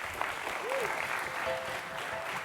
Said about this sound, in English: Round of applause for Greg, please.